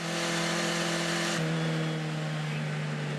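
A Formula 4 race car at Barbagallo Raceway cranks and revs as it tries to restart, a loud, steady buzzing engine tone that drops and shifts pitch midway, heard close and alone.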